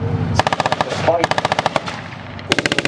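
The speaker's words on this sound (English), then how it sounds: "they're still trying to fire away with a machine gun" Rapid bursts of machine gun fire at a tank battle reenactment sound loud and close, with one long volley and another burst at the end, while a voice talks over the gunfire.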